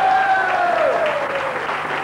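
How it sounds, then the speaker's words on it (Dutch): Audience applause at a 1984 record presentation in Rucphen, a steady wash of clapping lasting the whole clip, with a voice and a faint tone running underneath. "Applaus voor die man."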